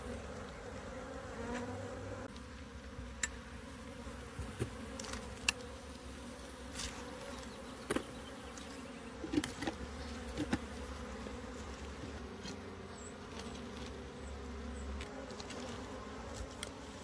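Bees buzz steadily from a hive lodged under a dune buggy, a dense low drone of many insects close by, with occasional individual bees zipping past and faint clicks, no voices.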